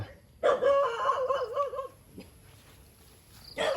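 A dog barks in a burst of rapid, loud barks outdoors near a small farm plot, then falls quiet before one more short bark at the end.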